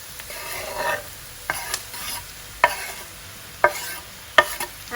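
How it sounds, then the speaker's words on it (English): Chopped mushrooms hitting a hot pan with browning onions and garlic, sizzling steadily on high heat, with several sharp stirring scrapes and clatters spaced through the frying. "Now in goes all the chopped up mushrooms."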